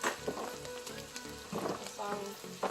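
Sliced wieners and beans with chili sauté in a hot pan, giving a steady crackling sizzle with small popping bursts, close and moderately quiet, with no talking.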